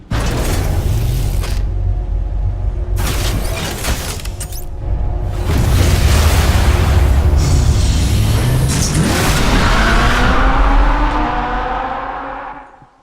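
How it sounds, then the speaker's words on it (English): In Batman: The Telltale Series, a car engine revs up loudly and the tires skid, with mechanical creaks and clunks at the start before a long rising engine roar that fades at the end. "Sounded like a actually pretty good car."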